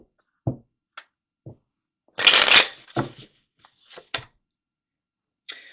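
Tarot cards are shuffled close up in a series of short riffling and slapping bursts, with one longer riffle in the middle and scattered soft taps between, no talking over them.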